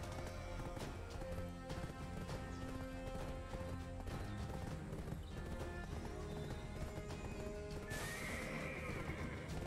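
A horse in the video game Black Desert Online clip-clops with rapid, loud hoofbeats and neighs, the sound dense and close, ending with a brighter whinny-like burst near the end.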